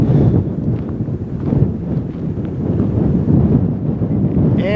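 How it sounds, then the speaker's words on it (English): Strong wind in Vedauwoo, Wyoming buffets the microphone in rough, surging gusts, a loud low rumble that rises and falls throughout with no speech. "And that fair amount of wind,"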